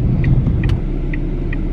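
A car drives along the road, heard from inside as a steady low rumble of tyres and engine, with a few faint, brief high chirps over it and no speech.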